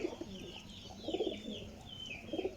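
A pure-bred pigeon cooing close by in a soft, repeated rhythm, three short low coo phrases over faint background noise.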